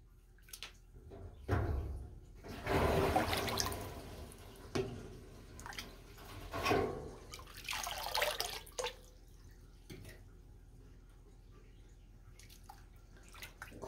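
Thirty-eight-year-old canned chili and beans is poured down a drain in several quiet, uneven bursts of sloshing and gurgling liquid, separated by short pauses and drips.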